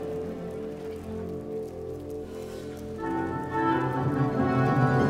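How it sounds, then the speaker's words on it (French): Sea waves wash and hiss inside a grotto, a steady broadband rush that swells louder partway through, used as a radio drama effect. "Entendez-vous la mer derrière nous?"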